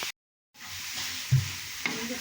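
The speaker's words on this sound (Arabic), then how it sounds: "درت ليهم واحد النقيطه ديال زيت الزيتون وغنخليهم يتشحروا مزيان" Spices and a drop of olive oil are stirred and sautéed in a pan, a soft continuous sizzle after a brief silent gap, with a couple of scraping stir knocks from the utensil close by.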